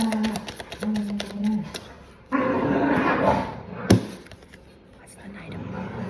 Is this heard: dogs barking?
yes